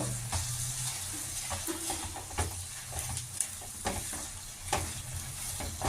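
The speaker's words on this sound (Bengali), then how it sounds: "এখন এগুলো আমি এইভাবে একটু নাড়ব।" Spices with turmeric and salt scraped and stirred in a hot pan for palak paneer, close sizzling under repeated spatula scrapes in an uneven rhythm.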